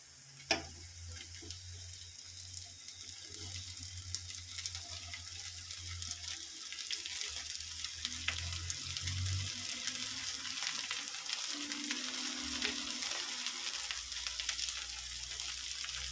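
Cut okra frying in a pan and stirred, a continuous soft sizzle with occasional scrapes of the spoon, close and steady with no talk.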